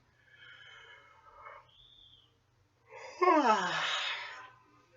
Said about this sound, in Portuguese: Eu vou bocejar aqui, vocês vão ver o que vai acontecer